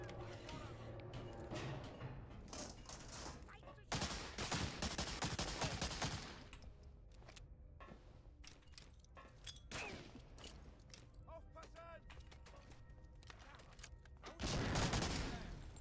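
Heavy gunfire from computer-controlled soldiers in the WWII shooter Medal of Honor: Allied Assault: dense bursts of rifle and machine-gun fire in repeated volleys, loud and close, with a few thuds between them.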